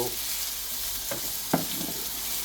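Chopped onions frying in a pan for a village-style drumstick and egg curry, a steady close sizzle with a couple of brief stirring scrapes and no voices.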